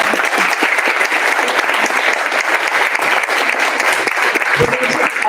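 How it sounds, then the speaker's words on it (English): An audience at a 2024 Osage Nation Congress candidate debate applauds the candidates in a steady, dense round of clapping that holds for about five seconds, with faint voices underneath. "Please give the candidates a round of applause."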